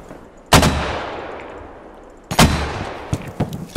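Two heavy mortar blasts in the video game Squad, each a sharp loud crack with a long rumbling decay, followed by a scatter of quicker gunshots near the end.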